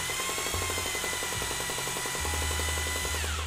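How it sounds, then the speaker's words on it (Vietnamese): A Bosch power drill runs steadily in normal drilling mode, a loud continuous whir with a rapid mechanical pulsing that briefly dips and rises as the load changes, heard alone without talk. "Đây chức năng khoan thường anh em, chức năng khoan Bosch, chức năng khoan bê tông tạo thương hiệu Bosch ha."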